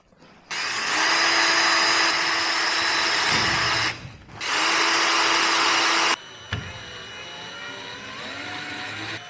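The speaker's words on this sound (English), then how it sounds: "Put some screws in the back." A power tool drives screws into the back of a car bumper that is getting spikes fitted. It gives two long, loud, whirring runs with a short break between them, then a quieter tail, with no talking.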